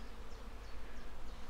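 Bees buzz around beehives at an apiary kept by the Dorset Beekeepers Association near Melplash and Netherbury, a faint, steady outdoor hum that carries on for the whole moment with no voices.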